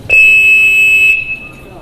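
A steady high-pitched electronic telephone trunk dialing tone with harmonics holds for about a second, then drops to a quieter single tone that fades out.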